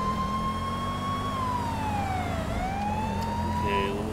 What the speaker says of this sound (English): Okay, we'll turn off my sirens.